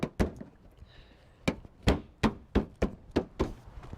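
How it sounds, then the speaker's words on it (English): Sharp, close taps at irregular intervals as a part is knocked into place during a 2004-2009 Toyota Prius inverter water pump replacement, about eight distinct hits with no talk. "Just lift it up, give it a tap."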